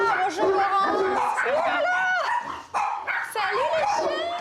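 Several dogs bark and yip excitedly without pause, mixed with whines, while a person's voice is heard among them.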